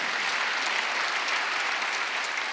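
A church congregation applauds during a Wednesday worship service, a dense, steady wash of many hands clapping at close range for the whole stretch, with no voices over it.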